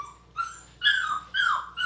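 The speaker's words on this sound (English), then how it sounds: "Are you gonna start all that howling?" Six-week-old golden retriever puppy whimpering and starting to howl, three rising, drawn-out whiny cries in close succession, near and fairly loud, with no talking.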